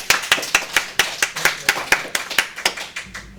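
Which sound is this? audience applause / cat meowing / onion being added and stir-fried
audience applause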